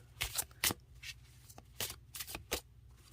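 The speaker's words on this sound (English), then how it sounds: "they are bendy and a joy to shuffle" Bendy, slippery Flower Magic oracle cards are shuffled up close in several quick, crisp bursts of riffling, separated by short pauses, with no talking.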